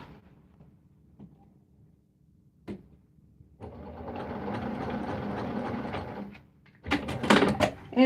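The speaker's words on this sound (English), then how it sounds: "I'm just going to sew a little stitch right there, just so it holds it down." A sewing machine runs for a short burst to stitch ribbon down onto fabric, a steady close mechanical whir lasting a few seconds, framed by quiet handling and a louder clatter of knocks at the end.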